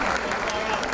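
Squash crowd applauding at the CCI International 2017 final, a steady dense wash of clapping that fills the moment without breaks.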